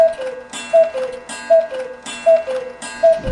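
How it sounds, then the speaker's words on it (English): A clock ticks in a steady, evenly spaced rhythm, each tick paired with a bright metallic ring, repeating about four times and loud and close with no voices over it. "Quiet, you stupid clock!"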